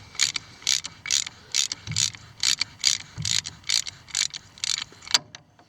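A hand ratchet with a 15/16 socket spins a crossmember nut off a CJ-5 Willys Jeep, giving about a dozen crisp, evenly spaced bursts of rapid clicking, close and clear with no talk.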